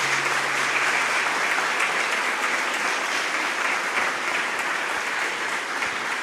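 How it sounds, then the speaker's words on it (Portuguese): Warm, sustained applause fills a church as a congregation honours its lay volunteers, a dense steady wash of many hands clapping at close range that holds evenly throughout. "nossa gratidão com uma calorosa salva de palmas"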